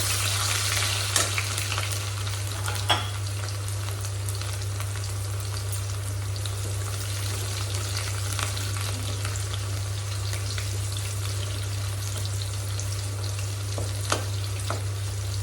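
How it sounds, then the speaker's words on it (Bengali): Cumin seeds and crushed garlic fry in hot oil with a steady, close broadband sizzle, broken by a few faint stirring clicks, plus a constant low hum in the background. "রসুনটাও ভাজা হয়ে গেছে"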